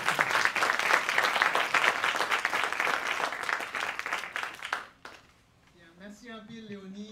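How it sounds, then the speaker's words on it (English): Audience applause in a symposium hall welcoming a former Prime Minister of Haiti to the stage, a dense sustained clapping that fades out after about five seconds, followed by a voice speaking alone. "aidez-moi à applaudir et accueillir Michel Pierre-Louis"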